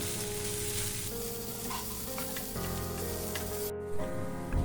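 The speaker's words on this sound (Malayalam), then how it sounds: "ഇതിലേക്ക് നമ്മൾ വേവിച്ചെടുത്ത ചിക്കൻ ചേർക്കാം. നല്ലോണം ഇളക്കി കൊടുക്കാം." Cooked chicken is stirred in a hot pan, giving a steady close sizzle with scraping utensil strokes throughout and no talk.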